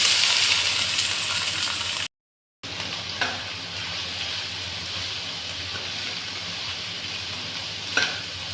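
Cumin seeds, green chili, ginger and onion frying in a pan over medium flame, a steady loud sizzle with occasional stirring scrapes, briefly cut by a gap of silence.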